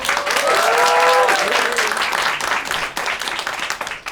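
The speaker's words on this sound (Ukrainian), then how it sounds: "Другий раунд Вадим Дзюнько під ваші бурхливі оплески" Enthusiastic audience applause during a comedy roast battle round, a loud, dense crowd clapping with brief cheers or voices rising over it early, then gradually tapering off.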